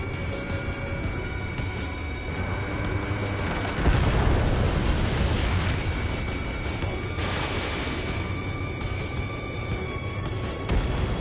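In the Ace Combat game, an enemy radar vehicle blows up in a deep rumbling explosion that rolls on under a sustained roar of jet engines and music, with a second burst of noise later.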